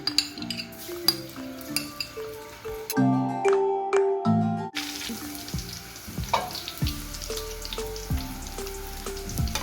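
Steady sizzling of garlic frying in hot oil in a kadai, with metal utensils clinking and scraping against the pan throughout.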